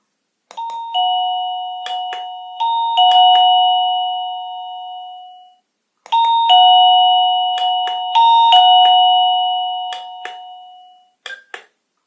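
An Orno OPERA AC 230V wireless doorbell (OR-DB-YK-117) plays its electronic chime melodies, two loud ringing multi-note tunes that each sustain and fade, with clicks of button presses between and a short burst at the end, no voices.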